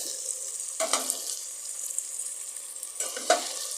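Chicken curry with tomatoes frying in a pan while being stirred gives a steady, moderate sizzle, broken by two brief scraping stirs.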